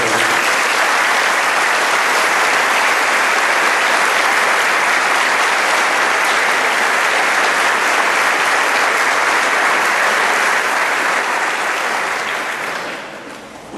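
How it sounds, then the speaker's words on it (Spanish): Loud, sustained applause from a church congregation thanking the young people, dense clapping filling nearly fourteen seconds at steady volume before tapering off at the end. "lo más justo es agradecérselo con un cariñoso aplauso a los jóvenes"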